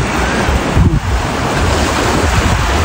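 Sea waves wash onto a beach in a loud, continuous roar of surf mixed with wind buffeting the microphone, no speech.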